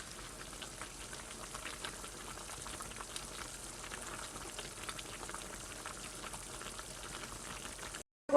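Braised beef short ribs (galbi-jjim) simmer in sauce with vegetables, giving a soft, continuous bubbling and faint spattering at low volume throughout.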